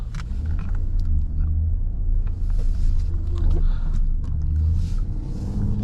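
Ram 1500 RHO high-output pickup truck driving and sliding on snow at night, heard from inside the cab as a steady, loud low engine rumble with continuous road and tire noise throughout.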